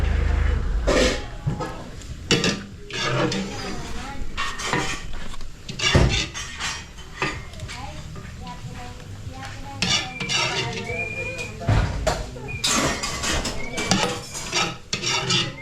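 Utensils scrape and clink against plates and dishes as chicken barbecue is plated, busy and close, with scattered taps and rubbing sounds and faint voices in the background.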